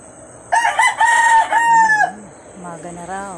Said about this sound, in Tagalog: Maingay yung mga manok.